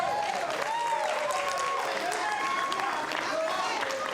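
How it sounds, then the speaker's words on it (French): Applause from the audience at a Gabonese young musical talent contest rolls on steadily for the performers, a thick wash of clapping that stays level while a voice with a rising, singing tone carries over it. "On applaudit pour ces étoiles"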